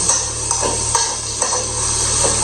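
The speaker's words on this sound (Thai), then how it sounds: "ผัดเนื้อหมูก่อน" Pork stir-fried in a pan, with a steady close sizzle under a few sharp scraping and tapping strokes from the stirring utensil.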